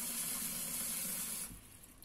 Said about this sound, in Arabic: غادي نزيد الماء تنغطيه